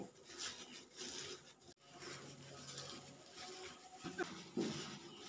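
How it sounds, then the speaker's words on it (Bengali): Peanuts rubbed firmly between two hands to strip their skins for a milk-free sweet, making a quiet, dry, scratchy rustle that continues in uneven bursts. "চার থেকে 5 মিনিট আমি এরকমভাবে এগুলোকে ঘষে ঘষে খোসাগুলো ছাড়িয়ে নিয়েছি।"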